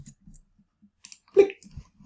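A computer mouse click sounds once, sharp and close in a quiet room, with a few faint small taps and light handling noises scattered around it.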